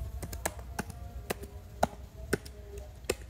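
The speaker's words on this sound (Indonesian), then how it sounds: "lalu ketikkan yaitu kolom pergerakan" Fingers type on a computer keyboard while entering spreadsheet column headings, producing a steady run of light, close clicks and taps at an even pace.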